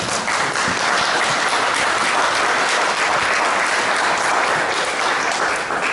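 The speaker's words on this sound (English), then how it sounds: "That deserves a round of applause." Crowd of people applauding an Army veteran at the start of a street tour in Lincoln, dense continuous clapping at full volume for several seconds.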